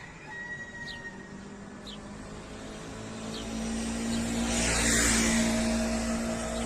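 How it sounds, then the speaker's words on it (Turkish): A driving school car reverses in reverse gear during L-shaped parking practice in Balıkesir, with a steady close engine hum and a thin gear whine that grows slightly louder toward the end. No one speaks. "Aracımızı geri vites alıyoruz"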